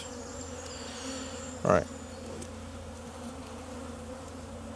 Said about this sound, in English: these are mostly going to be flying bees